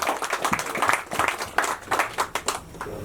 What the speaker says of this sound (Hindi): उनको आने से पहले हम सभी लोग जोर से तालियां बजाकर धन्यवाद दें